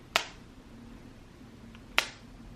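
Two sharp, crisp clicks of a Hermes Rouge lipstick's magnetic case snapping shut, about two seconds apart, close and fairly quiet over a faint room hum.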